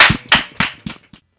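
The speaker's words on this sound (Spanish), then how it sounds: "Un fuerte aplauso para él." A handful of sharp hand claps from a small audience at a live music session, four or five separate bursts that fade out quickly into silence.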